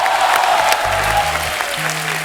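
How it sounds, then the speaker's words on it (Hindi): Studio audience applause on a Hindi comedy talk show, a loud continuous burst of clapping throughout, with a low musical tone sounding underneath. "जोरदार ताली होनी चाहिए."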